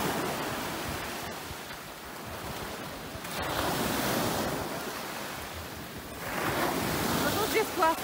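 Stormy sea waves surge onto a sandy beach at Sevastopol, loud rolling washes rising and falling in several swells with gusting wind noise on the microphone.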